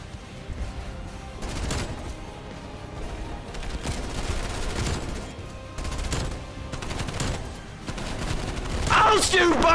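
A PPSh-41 submachine gun fires in a video game, with rapid bursts repeating through a noisy battle mix and a voice briefly heard toward the end.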